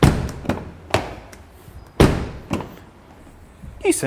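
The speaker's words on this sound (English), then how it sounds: "let's close this back door and see how good it feels" The heavy rear door of a 2022 Lincoln Nautilus thuds shut with a solid slam, surrounded by a few lighter knocks and taps before and after.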